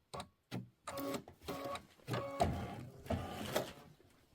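A sewing machine stitching a mini quilt runs in rapid mechanical bursts, whirring and clattering in short rhythmic runs with brief pauses between them, fairly quiet and close, with no talk.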